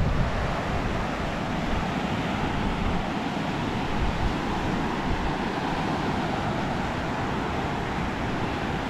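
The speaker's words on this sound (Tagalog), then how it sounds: "Ayan o, malakas pa rin ang alon." Strong ocean surf roars in a steady, dense wash of breaking waves, loud and continuous, mixed with wind buffeting the microphone and no speech.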